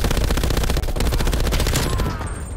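An MG 82 machine gun fires in Call of Duty: Black Ops Cold War, a loud, dense, sustained burst of rapid automatic shots that tails off at the end.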